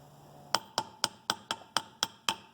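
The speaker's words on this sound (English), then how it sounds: "I'm just going to tap it down in there until it seats" Eight evenly spaced metallic taps as a timing chain guide part is driven into place on an OM617 engine during a rebuild, each crisp and ringing briefly, close and moderately loud without talk.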